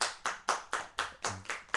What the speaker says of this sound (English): The clerk in the tank involuntarily applauded.